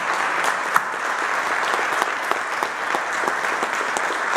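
An audience at an anniversary and farewell gathering breaks into sustained applause, dense steady clapping from many hands filling the room at an even level throughout.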